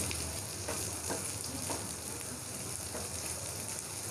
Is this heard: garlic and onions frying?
yes